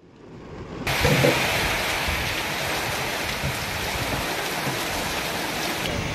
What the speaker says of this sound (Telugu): ఖైరతాబాద్ పరిసర ప్రాంతాల్లో వర్షం కురుస్తుంది